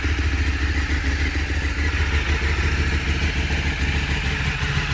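A Ducati Streetfighter track bike's engine runs steadily up close, a loud continuous low rumble with a dense mechanical clatter and no voices over it.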